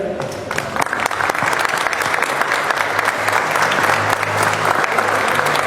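Audience applause at a ceremony declaring the Camino Real de Tierra Adentro a cultural heritage site, a dense, steady clapping that fills the room at even loudness throughout.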